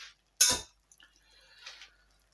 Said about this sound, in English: So now let's add in our boiled and drained pasta to this.